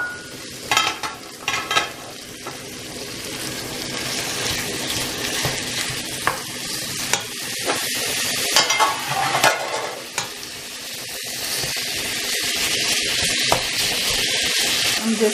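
Meat hits a hot pan and sizzles steadily, with scraping stirs and clinks of a utensil against the pan over a continuous frying hiss that grows slightly louder and holds close throughout.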